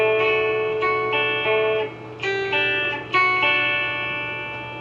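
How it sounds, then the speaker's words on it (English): A voice line carries a reverb effect, its sustained tones trailing off and decaying after each phrase. Several short bursts repeat, each with a smeared tail. "We'll add a little reverb to it."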